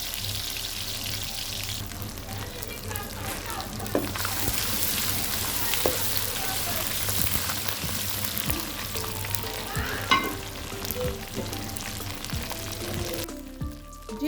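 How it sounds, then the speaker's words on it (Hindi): Garlic ginger paste sizzles and fries steadily in hot oil for a tadka, with scattered clinks and scraping of stirring throughout; no one speaks. "इसको हमने गोल्डन ब्राउन कर लेना है,"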